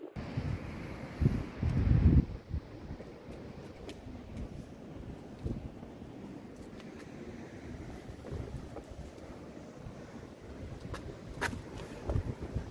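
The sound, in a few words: wind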